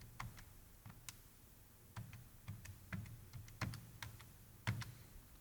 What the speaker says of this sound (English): I'll type that in my calculator so you can see what's going on.